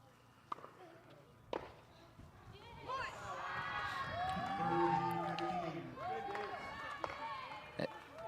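A crowd at a Billie Jean King Cup women's doubles tennis match, Morocco vs Kenya, swells into cheering and shouting that peaks mid-clip and then fades. Sharp ball strikes or footfalls are heard before and after.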